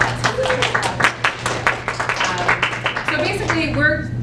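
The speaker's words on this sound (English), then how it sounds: "Give them a round of applause." A small audience at a poetry recitation contest claps steadily for the judges, a dense run of close handclaps lasting several seconds with a voice briefly heard near the end.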